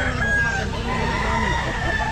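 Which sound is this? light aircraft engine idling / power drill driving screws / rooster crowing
rooster crowing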